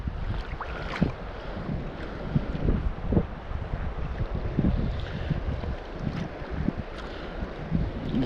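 Wind blowing over Derwent Reservoir while lure fishing for pike in September, a steady low roar of buffeting against the microphone with faint splashing and small knocks underneath.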